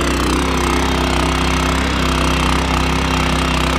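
Farm machine running in third gear, heard as a loud, steady, close engine drone with a hard rapid pulsing knock, unchanging throughout, with no talking.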